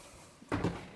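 Under-bed storage drawers aboard a 2023 Dufour 430 sailing yacht slide and knock shut in a few quick wooden thuds, close and moderately loud in a quiet cabin.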